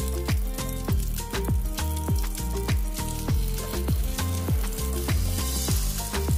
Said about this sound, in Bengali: খুব আলতো হাতে এটাকে তুলে ফ্রাই প্যানে দিতে হবে